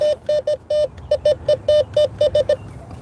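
A Bounty Hunter Tracker IV metal detector searching along a road sounds a rapid series of short, loud electronic target tones with a crackly edge, about a dozen chirps coming in uneven bursts.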